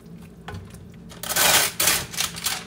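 Pork sinigang soup with spinach being stirred in a pot, starting with quiet scrapes and clinks, then louder bursts of sloshing and rustling leaves, close up and without talk.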